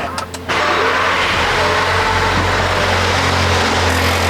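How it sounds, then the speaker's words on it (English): A tuned VW Golf Alltrack TSI engine running on ethanol fuel cranks briefly, then catches and settles into a steady, close idle rumble. "I'm just gonna start the car"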